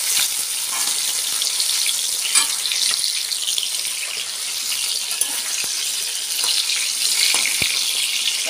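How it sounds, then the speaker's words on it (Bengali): Fish and eggplant sizzle in oil in two pans on a home stove, a steady, close, bright crackle that runs throughout with a few soft clinks, and no talking. "মাছ ভাজা হচ্ছে, দেখতে পাচ্ছ? দুটো কড়াই বসিয়েছি, বেগুন ভাজা হচ্ছে।"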